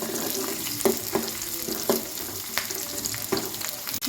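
Onions, curry leaves and dried chillies fry in hot oil for a tempering, giving a steady close sizzle broken by several sharp stirring clinks of a spoon against the pan.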